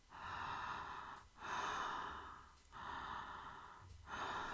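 Breathing through an open mouth: four slow, airy breaths in and out at a steady rhythm, close and soft, with no other sound.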